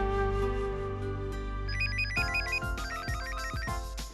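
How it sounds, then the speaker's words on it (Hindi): A phone's electronic ringtone plays loud and close, opening with a sustained tone and then a bright, repeating melodic chime pattern in a Hindi TV drama scene, with no talk. "जय भैया का फोन, एक मिनट"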